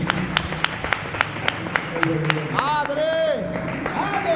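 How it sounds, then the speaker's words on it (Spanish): A church congregation claps in sharp, evenly timed unison beats at first, then the clapping loosens into scattered applause as voices rise over it. "Denle un aplauso a Jesús."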